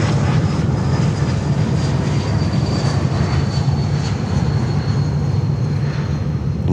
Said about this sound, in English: Embraer 195 E2 coming in.